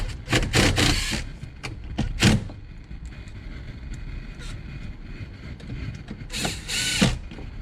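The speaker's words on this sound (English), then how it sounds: "Got our trusty little drill. Alright, or screwdriver," A small handheld drill or screwdriver whirs in several short bursts while fastening screws during a Sony XAV-AX5000 car stereo install in a Nissan Dualis, close and loud with quieter pauses between runs.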